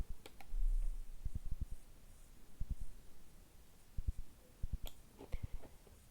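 Computer keyboard shortcut keys (Ctrl-C, Ctrl-F) pressed while working in Adobe Illustrator, giving a scatter of sharp, close clicks in small clusters, some quick pairs and some fast runs, fairly quiet against a soft background hiss.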